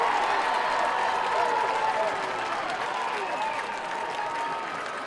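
Crowd at an NCAA women's soccer match between Wake Forest and North Carolina cheering and applauding a penalty call, a sustained roar of clapping and shouts under a commentator's voice, slowly easing off.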